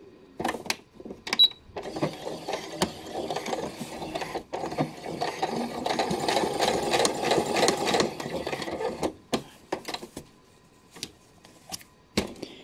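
Sewing machine stitching half a centimetre from the edge along a fabric Easter basket handle stiffened with batting, a steady mechanical whir running for several seconds, framed by shorter bursts and clicks at start and end.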